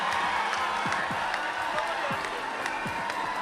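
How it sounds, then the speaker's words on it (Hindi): Audience applause and cheering at a Hindi comic poetry gathering, a dense steady wash of clapping with scattered whoops, sustained at even loudness throughout. "तो जोरदार तालियां।"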